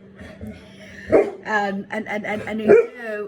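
A pet dog barks several times in quick, uneven bursts close by, mixed with a person speaking briefly over the barks.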